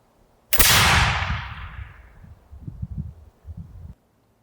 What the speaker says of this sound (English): it lights the other powder inside the barrel through a hole, and that's what makes the gun fire